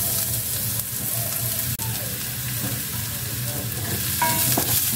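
Ginger and garlic sautéing in a pan for beef innards papaitan, a continuous loud sizzle with steady frying hiss and a few faint clinks.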